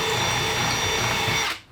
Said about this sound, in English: So we're just gonna drill out the holes, make them a little bit bigger, clean out the gunk.